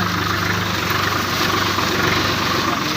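A tractor engine idles steadily nearby on a farm field, used with a crop-residue and grass gathering machine, a loud continuous rumbling drone with a faint vibrating rattle throughout.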